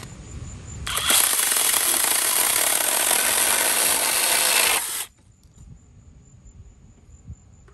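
A GardenJoy 4-inch cordless electric handheld chainsaw whines loudly as it cuts through a branch about 2 inches thick, running for roughly four seconds before stopping abruptly, leaving quiet outdoor background.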